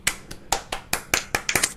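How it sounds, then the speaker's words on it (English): A handful of sharp, separate hand claps, about nine in quick succession, close by and slightly uneven, like a small group clapping for the winner of an iRacing esports championship. "I want to hear a huge round of applause."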